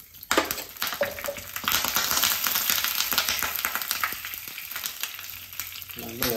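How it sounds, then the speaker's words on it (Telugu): Mustard seeds and cumin spluttering in hot oil in a kitchen pan, a loud dense crackle of rapid pops that starts abruptly and runs on continuously before easing near the end. "ఆవాలు 1 స్పూన్ వేసుకోండి"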